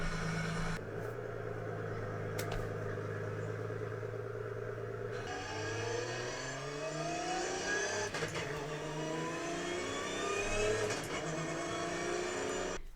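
A Nissan R34 GT-R engine idles, then revs up repeatedly, its pitch climbing and falling in smooth sweeps, steady and moderately close with no talking.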